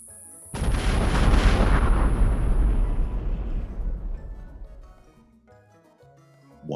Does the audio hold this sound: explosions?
yes